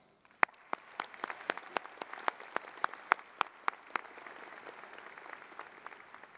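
Applause from the audience at a Washington State University fall 2016 commencement, honoring the Regents: sharp, separate claps ring out over a steady bed of softer clapping from a large hall crowd for about six seconds.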